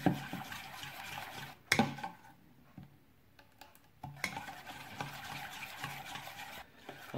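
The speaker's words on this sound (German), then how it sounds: "und noch unser Kräuteressig. Einfach zu einer glatten Masse umrühren und das Ziel ist es, dass es relativ cremig erscheint." A spoon stirs herb vinegar dressing into a smooth, creamy mass in a small bowl for bean salad, close scraping and swishing in repeated strokes with a short pause midway.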